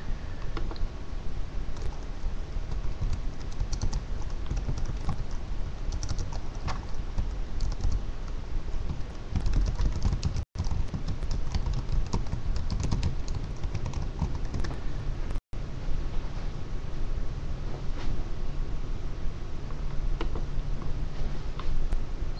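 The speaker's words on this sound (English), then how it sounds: "Let me type that in." Steady typing on a computer keyboard, close and continuous with dense rapid key clicks over a low room hum, broken only by two brief dropouts.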